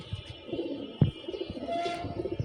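Racing pigeons cooing at a tournament loft, a low throaty burbling close by with a few soft chirps and rustles mixed in.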